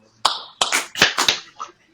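Hands clapping in a small room during a wrestling talk show, several sharp, close claps in quick succession, some overlapping with shouts and voices from the group.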